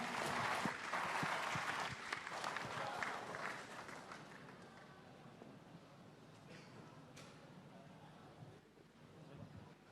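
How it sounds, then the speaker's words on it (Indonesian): Crowd applause at a town-hall discussion event in Medan, loud dense clapping at the start that gradually thins and fades over ten seconds, with faint background noise. "kita berikan tepuk tangannya"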